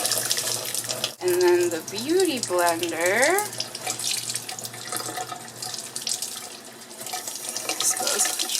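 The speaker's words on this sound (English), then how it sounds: "when the water's running, you have to squeeze it, and then that's how it absorbs the water." Tap water runs into a sink while makeup sponges, a Beauty Blender and a Real Techniques sponge, are wetted and squeezed, the splashing steady throughout as someone talks over it.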